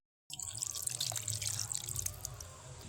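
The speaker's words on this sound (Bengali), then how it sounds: "এইবার জল দিয়ে দেব।" Water pours into a pot of chicken curry being cooked without powdered spices, a steady splashing, trickling stream beginning abruptly after a short silence and continuing close and fairly loud.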